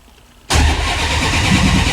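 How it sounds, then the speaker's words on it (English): A Plymouth Barracuda fitted with ACES EFI cranks and abruptly fires on first start-up, a sudden loud engine catch settling into a rough, close idle after quiet. "Do we have cranking RPM?"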